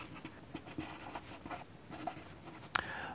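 A charcoal pencil sketches a ballerina on paper with soft, scratchy strokes. The close, quiet rubbing comes in short irregular bursts with no other sound.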